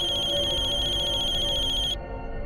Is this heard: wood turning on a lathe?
no